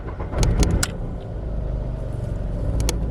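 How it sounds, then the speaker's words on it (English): A car with a faulty camshaft position sensor and its check engine light on cranks and starts roughly, giving a low rumble that settles into a steady idle, with a few sharp clicks or key jingles near the start. "When I start my car,"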